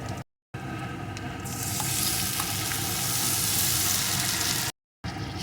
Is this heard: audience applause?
no